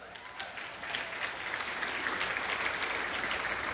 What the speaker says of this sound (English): How about a round of applause for those duet bikes